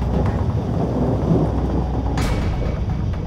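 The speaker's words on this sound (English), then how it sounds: "the hurricane hunters are now flying through the heaviest rain they've encountered this mission" Heavy hurricane rain pounds a hurricane hunter aircraft flying into Hurricane Isaac, a dense, constant rumbling roar close around the cabin with a brief sharper hiss near the end.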